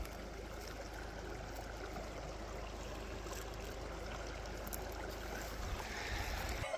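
A creek flows steadily outdoors, a continuous broadband rush of water that stays even and moderately loud throughout, with no voices over it.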